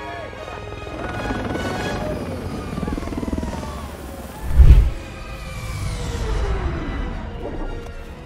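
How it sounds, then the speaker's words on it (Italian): An aircraft from the Paw Patrol cartoon in trouble and going down, a steady rotor-like engine drone with a brief loud thump midway, swelling and fading under faint voices. "l'aereo sta precipitando!"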